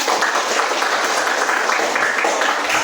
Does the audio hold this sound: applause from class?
yes